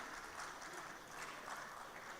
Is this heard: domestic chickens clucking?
no